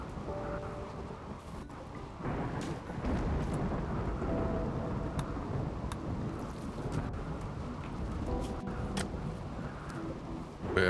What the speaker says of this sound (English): I don't like that the thunder sound effect flips.